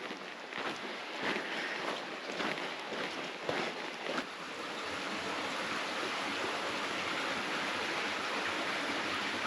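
A creek in the Grand Canyon runs with a steady, even rush of water, soft and close, with a few sharper splashes and clicks early on before settling into a constant wash.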